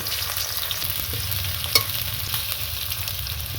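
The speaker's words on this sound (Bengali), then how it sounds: "এবার পেঁয়াজটা হালকা করে লাল লাল করে নেব" Onions sizzle and fry in hot oil in a wok, a steady, fairly loud crackling hiss with stirring scrapes and one sharp pop partway through, no voices.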